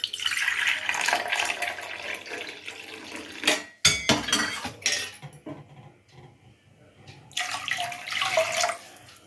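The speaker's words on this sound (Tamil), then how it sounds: "இதிலே 1 கப்பு தண்ணி ஊற்றிக்கிறேன்" Water poured into a pot of rice and lentils for sweet milk pongal, heard as a splashing, gurgling pour with clinks of the pot and pauses between pours.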